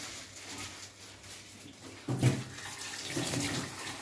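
Cold water splashes and pours steadily into a bowl, starting suddenly partway through and continuing close by with a rushing, bubbling sound.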